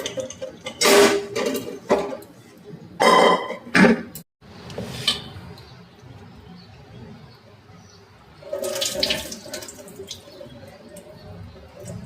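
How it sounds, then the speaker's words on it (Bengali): Arhar (pigeon pea) dal is rinsed under running tap water in a home kitchen, giving several short bursts of splashing and pouring separated by quieter gaps with light handling noise. "ডালটা ভালো করে আমি আগে ধুয়ে নিলাম"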